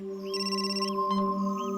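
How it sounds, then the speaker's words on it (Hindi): A phone's electronic ringtone plays in short repeated bursts over a steady background hum, fairly close and clear, with no talking. "सर दया सर का फोन"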